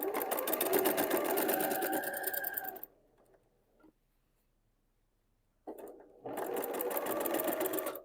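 A sewing machine stitches a quilted 16-patch table runner in two loud, steady bursts of rapid mechanical whirring, separated by a few seconds of near silence as the stitching pauses.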